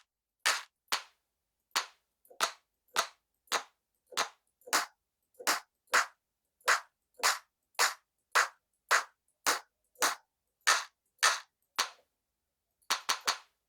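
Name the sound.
drum machine clap samples from Ghost Hack pack in FL Studio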